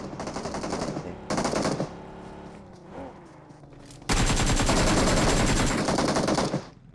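Automatic rifle fire in a ranked PUBG match on the Erangel map: a short burst, a second brief burst, then a long sustained stream of loud, rapid shots, with quieter gaps between.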